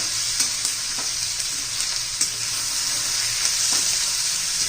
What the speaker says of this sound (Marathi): आता चांगलं परतून घेते मी हे पण हलवून घेत राहायचे